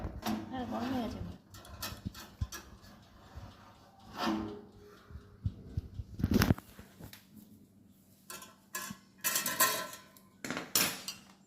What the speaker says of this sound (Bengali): এবার আমি ওটিজি বাটিটা বার করব, গরম হয়ে গেছে ওটা।